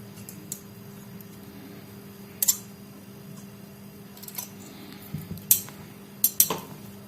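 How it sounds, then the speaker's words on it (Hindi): Scissors snip through piping fabric for a sherwani in a few sharp, separate cuts over a steady low hum, with short light clicks spread between them. "पाइपिंग का कपड़ा है उसको काटेंगे बराबर से"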